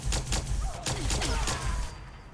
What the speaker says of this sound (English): it is a plasma gun